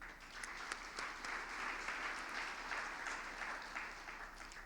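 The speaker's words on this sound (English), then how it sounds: "I think that's something worth applauding" Applause from an audience at a deputy minister's energy address in South Africa, a faint, steady roll of many people clapping heard from a distance, even in level without breaks.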